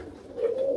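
A slate-grey pigeon gives a short, low, throaty coo that swells and holds steady near the end of a brief moment, with a faint background hush and no talking.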